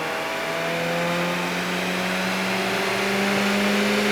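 A car engine with a straight pipe exhaust revving on a dyno, a loud steady drone that climbs smoothly in pitch over several seconds, close and unbroken, with no talking.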